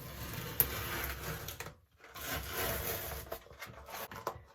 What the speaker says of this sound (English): Now I'm going to start to try to peel it away from the corner here